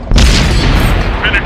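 A tank cannon fires at a target in a combat video game, one heavy booming blast close up with a long rumbling tail and a faint radio-style voice in the background.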